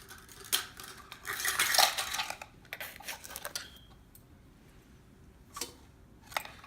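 Two eggs and a tablespoon of sugar beaten by hand in a bowl for waffle batter; quick clinking strokes of utensil against the bowl in irregular bursts, loudest in a dense flurry early on, then sparser taps.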